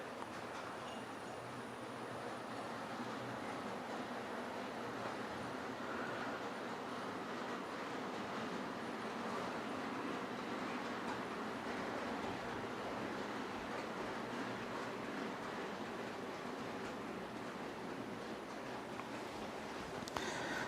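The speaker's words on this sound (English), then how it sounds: "And then we've got the Class 56 pulling some a rake of hoppers around." Class 56 model locomotive in grey livery with red stripes hauling a rake of hoppers around a layout, giving a steady, continuous rumble and rail hum that runs unbroken throughout, fairly close and with no voices.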